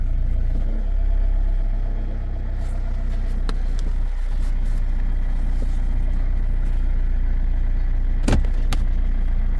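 A Toyota with a semi-automatic transmission pulls away gently on light throttle, a steady low engine hum heard from inside the car, with a few clicks and a brief sharp knock near the end.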